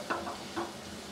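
Potatoes stirred with spices in a pan give a soft, low sizzle with two brief scraping strokes, quiet and close.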